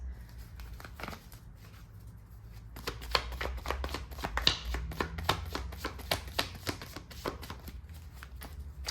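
Tarot cards are shuffled repeatedly up close, crisp flicking riffles and soft slaps coming in rapid bursts, growing busier after the first few seconds.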